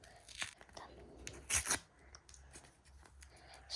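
A packet being torn open close up, with a sharp ripping burst in the middle amid smaller crinkles and rustles.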